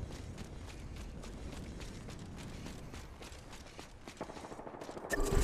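Rapid bursts of video game gunfire crackle in the middle distance, mixed with mechanical clatter and footstep-like thumps, growing louder and denser toward the end.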